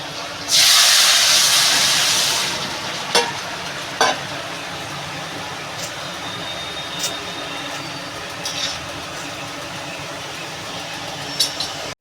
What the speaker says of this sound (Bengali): রসুনটা ব্রাউন হয়ে গেছে বন্ধুরা আমি এবারে তরকারিটা ঢেলে দেবো